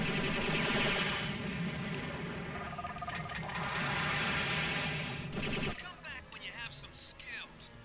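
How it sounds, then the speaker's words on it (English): Rapid machine gun fire from a mecha fighter in the Robotech: Battlecry video game during a dogfight over the ocean, loud and sustained for several seconds with dense game effects, then breaking into scattered bursts. "in close range, you use the machine gun"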